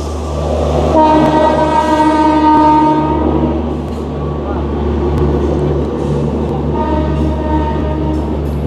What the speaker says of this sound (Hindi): तो जैसा कि हमारी गाड़ी खुल चुकी है क्यूल जंक्शन के प्लेटफॉर्म संख्या 5 से